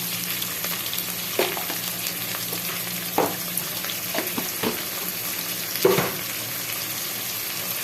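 Chayote sizzles in a frying pan while being stirred, a continuous close crackle broken by several louder scraping and clattering stirs at irregular intervals.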